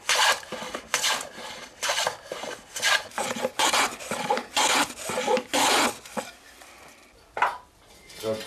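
A pear-wood hand plane shaving wood in a traditional cooper's workshop making tubs and barrels, a series of rough rasping strokes in a brisk rhythm, loud and close, fading toward the end.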